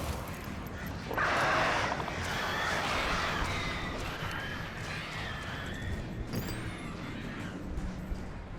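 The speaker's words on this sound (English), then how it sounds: "Frickin' crows." Crows caw in the Alan Wake video game, a few faint, distant calls over a dim, hissy outdoor ambience.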